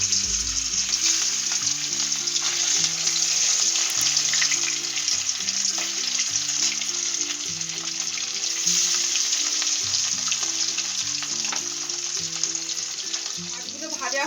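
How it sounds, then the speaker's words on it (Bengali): Pieces of katla fish sizzle steadily in hot oil, a dense, loud frying hiss that runs the whole time over a background of soft tonal music. "তেল গরম হয়ে গেছে, এবার আমি মাছের টুকরোগুলো দিয়ে দিচ্ছি।"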